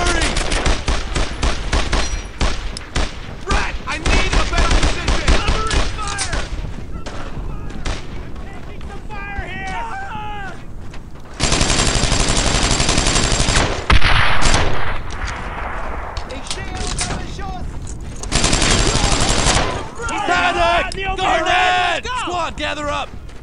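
Heavy gunfire from a World War II squad battle in the Brothers in Arms: Earned in Blood video game, with dense bursts of rifle and machine-gun shots and loud sustained volleys, mixed with shouted commands from soldiers.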